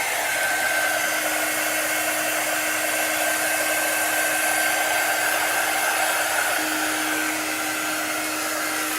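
A heat tool drying craft paint on a flower shadow box, a loud, steady, close airy blower roar with a constant motor whine and no pauses.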